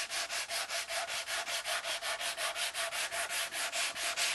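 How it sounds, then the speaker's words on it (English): 180 grit sandpaper is worked over a mahogany guitar body in steady, even back-and-forth strokes, about four or five passes per second, making a close, continuous rhythmic rasp with no talking. "So now I'm sanding with 180, and I'm taking my time with the 180"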